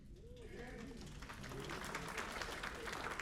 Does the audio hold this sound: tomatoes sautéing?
no